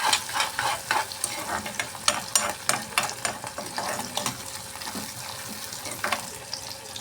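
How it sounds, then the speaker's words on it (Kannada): Tomato frying in a pan on a home stove: a steady sizzle with repeated scraping and stirring clatters close by, continuing throughout without any voices. "ಟೊಮೆಟೊ ರೀ ಸ್ವಲ್ಪ ಹಸಿ ವಾಸನೆ ಹೋಗೋವರೆಗೆ ಫ್ರೈ ಮಾಡಬೇಕು ರೀ"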